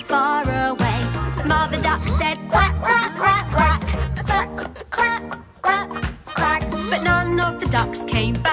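A voice sings a rhythmic, repeated quack imitating a mother duck in a children's nursery rhyme, set over a bright, steady musical backing.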